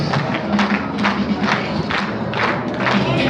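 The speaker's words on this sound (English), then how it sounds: "Everybody clap your hands." A crowd on the Las Vegas Strip claps hands in a steady rhythm, roughly two claps per second, loud and close, with crowd noise and some voices mixed in.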